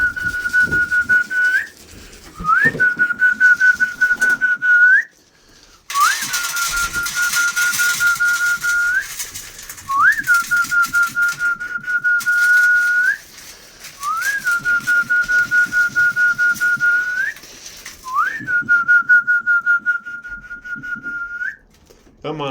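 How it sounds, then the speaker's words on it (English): A person whistles repeatedly to call pigeons at a loft, a steady tone with a rising flick at each end, about seven calls in a row with short gaps, loud and close with no talk. "I'm gonna teach them a little better to the sound of my whistle"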